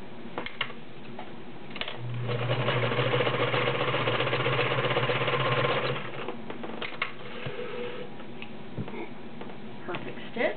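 A 1941 Kenmore free arm convertible sewing machine with a size 16 needle stitches through 14 layers of cotton, a steady mechanical whirring run of about four seconds flanked by clicks and handling noises.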